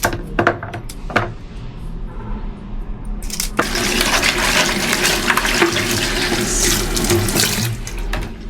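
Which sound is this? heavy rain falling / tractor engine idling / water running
water running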